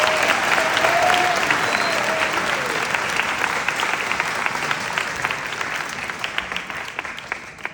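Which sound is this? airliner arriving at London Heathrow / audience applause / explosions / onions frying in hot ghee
audience applause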